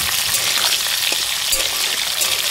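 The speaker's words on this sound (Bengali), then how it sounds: "এবার এই টমেটোগুলোকে আমি ভালো করে নাড়াচাড়া করে নেবো, যাতে টমেটোগুলো গলে যায়।" Chopped tomatoes fry and sizzle in a pan while being stirred, a loud, close, continuous crackle with soft scraping, heard alone.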